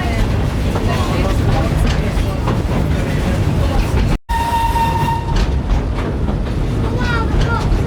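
Heritage train running on the South Tynedale Railway, a steady loud rumble and rattle of rolling stock throughout, briefly cut off midway, with a short tonal whistle-like sound after, and people talking over it.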